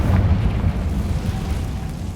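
Confringo blasting spell from Hogwarts Legacy, a deep rumbling boom with a crackling low burst that fades over two seconds.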